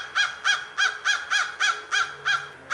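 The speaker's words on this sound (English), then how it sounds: "I'm gonna call this video a conversation with a crow." A crow caws outdoors in a steady series of about eight loud, close calls, evenly spaced roughly every third of a second, with no talking.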